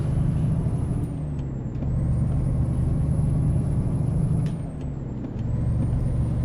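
A heavy truck engine in American Truck Simulator rumbles steadily with a high whine, dipping briefly twice as if shifting gears, alone without talk.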